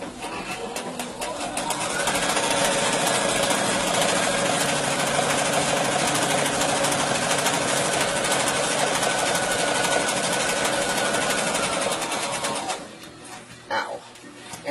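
A sewing machine stitches a pillow with a rapid, loud, continuous mechanical chatter that runs close for most of the stretch before stopping, followed by brief handling sounds.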